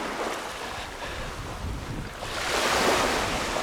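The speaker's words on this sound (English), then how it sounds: "the sea's making whooshing noises" Sea waves whoosh onto a sandy beach on the Fife coast as the tide comes in, a steady close wash with wind buffeting the microphone that swells louder near the end.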